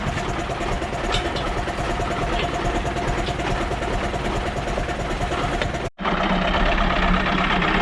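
An Ursus tractor drives along with a machine hitched behind it, its engine rumbling steadily and loud up close, a short dropout breaking the sound just before the end, with no clear speech.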